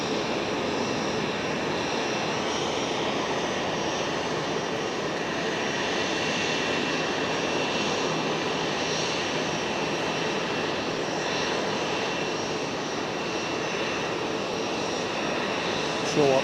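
A Pilatus PC-12 aircraft engine at Geneva Airport drones steadily and loudly as a broad continuous roar for the whole stretch, with a person talking over it.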